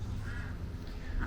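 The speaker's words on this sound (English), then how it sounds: "Here you see the ducks. We have lots and lots of ducks." Ducks quack together in a large duck pen, their steady nasal calls overlapping in a continuous, fairly close chorus.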